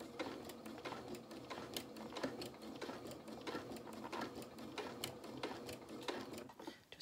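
Sewing machine quilting a fabric panel, running steadily and close up for the whole stretch with a fast, even mechanical stitching chatter that barely varies.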